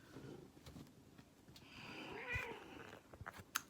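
A pet cat purrs softly and close by, a quiet, low rumbling purr with small rustles and a brief sharp sound near the end.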